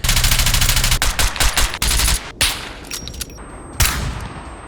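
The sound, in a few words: gunfire in a video game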